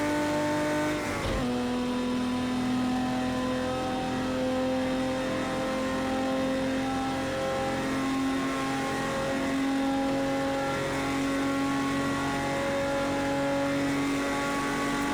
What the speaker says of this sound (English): The Porsche 917 Langheck.